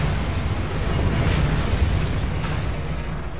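Hogwarts Legacy's Bombarda blasting spell goes off as a loud, sustained explosive rumble with crackling debris noise, steady and dense across the whole clip with no quiet gaps.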